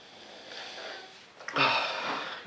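Two close, breathy sniffs at a glass of Dogfish Head Midas Touch beer, the first soft and the second longer and stronger, with no talking.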